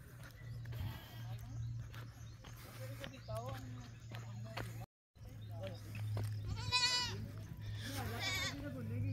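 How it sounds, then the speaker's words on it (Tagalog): Goats bleat several times at a distance in Dumaguete, with a few rising cries standing out over steady background noise and a constant low hum, while people talk nearby. "sinusod na naman mga kambing ah."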